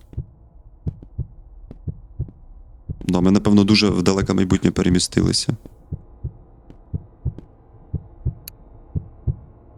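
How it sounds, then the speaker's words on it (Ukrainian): A quickening heartbeat sound effect thumps in a steady, fast rhythm of soft low pulses, close and clear, briefly buried under a burst of talk in the middle before continuing alone. "серцебиття пришвидкорюється"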